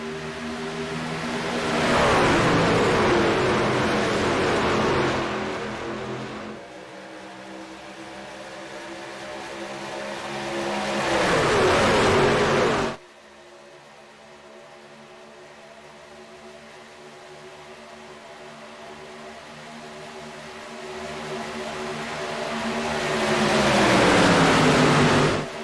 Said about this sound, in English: Green flag racing here again at Talladega.